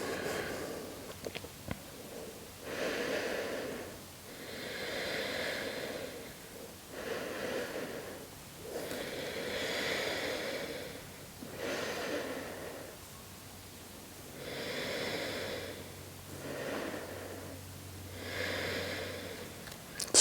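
Slow, steady breathing during a held yoga posture, with roughly eight soft airy inhale-exhale cycles repeating every couple of seconds, close to the mic and quiet, with no talking.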